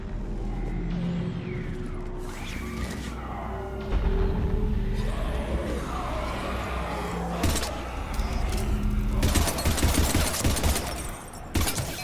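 Gunfire in the Mass Effect game while fighting husks, with repeated sharp shot bursts and mechanical clatter over a busy, loud battle background.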